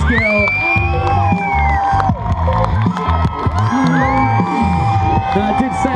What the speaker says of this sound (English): Let's give these guys a massive round of applause